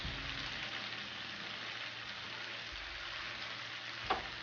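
Vegetables with fresh coriander and green chilies frying and being stirred in a pan for mixed achari vegetables, a steady close sizzle with a brief clink of a utensil near the end, no talking.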